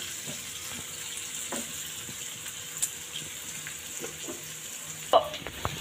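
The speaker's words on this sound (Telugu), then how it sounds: "ఆనియన్స్ కొంచెం 2 మినిట్స్ వెయిట్ బాగా ఫ్రై అవ్వాలండి" Onions frying in a pan for aloo kurma, a soft steady sizzle with faint stirring clinks and a sharper clatter near the end, close and quiet.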